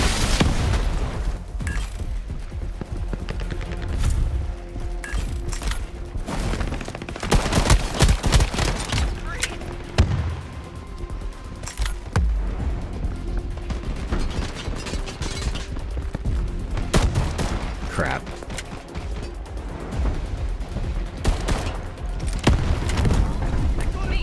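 SMG and pistol fire in the shooter Shatterline, rapid bursts and single shots cracking throughout a busy firefight, with a player talking over the gunfire.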